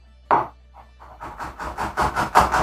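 Knife finely chopping onion and garlic cloves on a cutting board, a single knock and then a steady run of quick, close chops.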